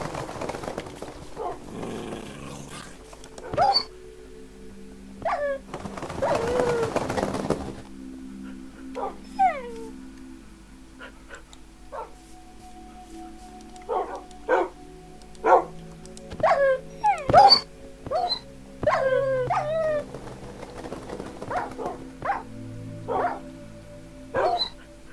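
Several dogs in the Minecraft video game bark, yip and whimper in scattered bursts over a steady background hum, with sharp bark calls clustered through the middle and later stretches.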